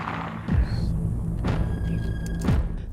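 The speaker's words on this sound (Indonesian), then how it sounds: "tembakan pertama Lon Scott meleset." Three heavy, deep booms land about a second apart in a film scene of sniper rifle fire, each a loud thud with a short rumbling tail over a constant low background hum.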